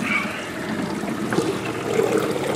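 Water splashing and crashing out of an aquarium drain pipe into the tank below, a continuous turbulent gush with bubbling, close and fairly loud, without any talk.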